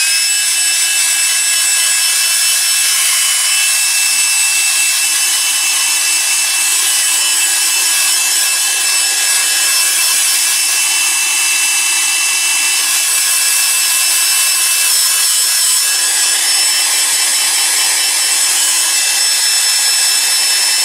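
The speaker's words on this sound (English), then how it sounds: "I'm just going to dry this with an air dryer." Air dryer blowing steadily over a wet painting sketch, a continuous loud whooshing hiss with a faint tonal whine, running throughout without talk.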